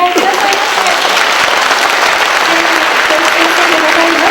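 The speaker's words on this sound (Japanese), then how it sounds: "どうぞ皆様温かい拍手でお迎えくださいませ" Warm applause from a festival audience welcoming performers onto the stage at the Nanjo City festival, a loud, steady, dense clapping that fills the whole stretch, with brief faint tones from the stage sound system.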